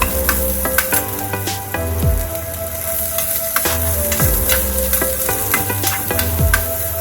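Tamarind water with tomatoes cooks in a pot for a horse gram rasam, giving a steady bubbling sizzle with repeated stirring scrapes and clinks, close and fairly loud, with no talking.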